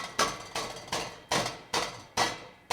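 Rattle from the cracked, broken muffler of a drift car, sounding as six sharp metallic clanks at a steady rhythm, each loud hit decaying quickly, close by with no talk.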